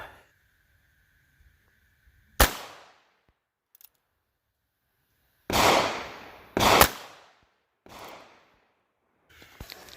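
Four or five sharp, separate gunshots from a short-barrel .22 LR pistol firing Federal Punch ammunition, spaced unevenly a second or more apart, each a loud crack with a brief tail and quiet between shots.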